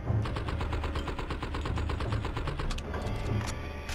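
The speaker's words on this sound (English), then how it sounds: "I'm getting assault rifle." An assault rifle in the video game Blood and Bacon fires in rapid, continuous automatic bursts, loud and close, a steady rattling stream of shots with a brief break near the end.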